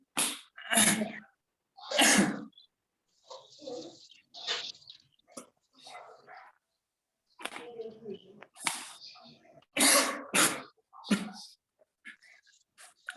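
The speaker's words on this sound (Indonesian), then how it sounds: "Lagi batuk, Pak." Several sharp, explosive coughs burst out close by, mixed with bits of quiet speech and breaths in between.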